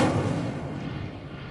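Fire spell cast in a wizarding video game, a short burst of whooshing, crackling flame energy that starts loud and tails off over about a second and a half, with no voices.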